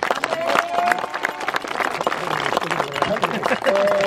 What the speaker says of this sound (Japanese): 今一度優勝の皆様に大きな拍手をお願いいたします。